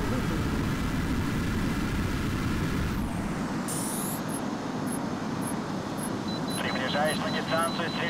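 Jet fighter engines roar continuously in the H.A.W.X. video game, a loud steady rumble that stays up front the whole time, with a sudden whooshing fly-by partway through and beeping cockpit warning tones near the end.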